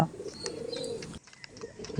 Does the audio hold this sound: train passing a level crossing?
no